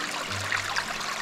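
Fresh cold stream water trickles steadily nearby in the wilderness of Padjelanta National Park, Sweden, a soft continuous burble with no voices.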